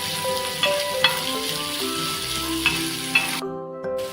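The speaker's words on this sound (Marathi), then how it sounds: "त्याच्यामध्ये आपल्याला 5 मिनिटं आपल्याला जरा हे सॉफ्ट होईपर्यंत आपल्याला तळून घ्यायचं." Sliced onion frying in a pan until soft for a Maharashtrian onion-chilli thecha, a steady close sizzle with a few sharp utensil taps and a brief quieter gap near the end.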